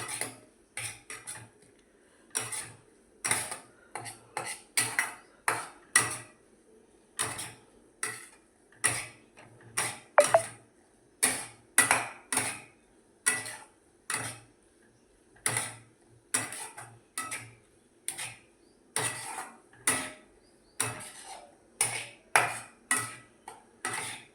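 A spoon scrapes and knocks against a pan while paneer bhurji with green and dried chillies is stirred, a steady rhythm of sharp clinks and scrapes roughly every second, close and alone.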